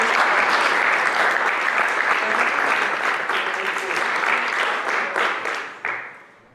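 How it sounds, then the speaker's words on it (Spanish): An audience at a leadership talk applauds loudly and densely, the clapping holding steady before thinning out and fading toward the end, with a few voices mixed in. "le damos un fuerte aplauso a Rodolfo."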